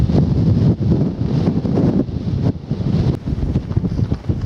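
Strong wind buffeting the microphone along a coastal walk past a sailing club and holiday homes, a loud continuous low rumble with gusty surges and no voices.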